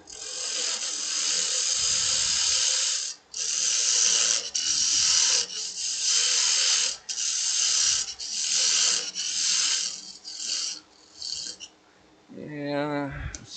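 A wood lathe cuts away waste wood while turning a goblet, in repeated harsh rasping bursts with short pauses between passes, close and loud, then a motor winds down at the end.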